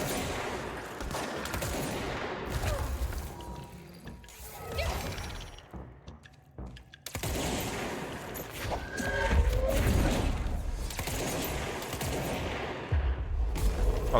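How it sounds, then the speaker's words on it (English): Bursts of gunfire in the action video game Control, rapid overlapping shots and impacts mixed with whooshes and crashes, dense and loud throughout with a brief lull midway. "Are they shooting each other or me?"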